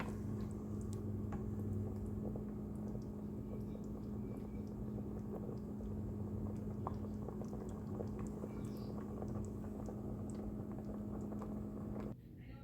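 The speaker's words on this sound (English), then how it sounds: "I've been sauteing it on medium, and it's starting to thicken up." Beef stew sautés and thickens on medium in an Instant Pot, giving a steady close bubbling and simmering over a constant appliance hum that cuts off near the end.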